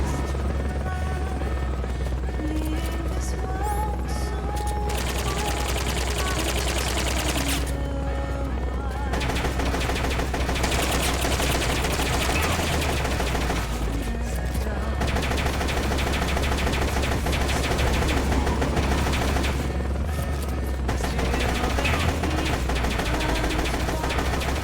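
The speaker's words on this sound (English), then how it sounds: "you do use a machine gun here" Machine gun fire in Metal Gear Solid: Peace Walker, sustained automatic bursts mixed with a steady helicopter-like rotor drone, dense and continuous game audio at moderate level.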